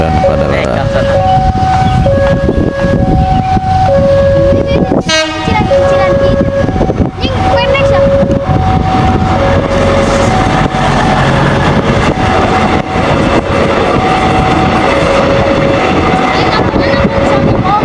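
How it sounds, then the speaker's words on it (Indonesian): The KRD Bias airport diesel railcar passes on a test run between Bandung and Padalarang, a loud continuous engine rumble with a horn sounding repeatedly in sustained tones, one sweeping blast midway, and voices beneath. "Sebentar lagi akan segera melintas KRD Bias yang sedang uji coba KRD Bandara Internasional Adi Sumarmo"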